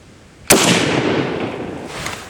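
A single sharp 7.62x54R rifle shot fired outdoors, loud and close, followed by a long rolling echo that fades over about two seconds.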